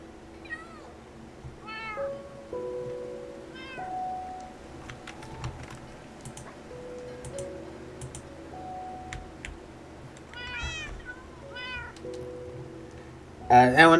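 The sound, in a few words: cat meowing in the video game Minecraft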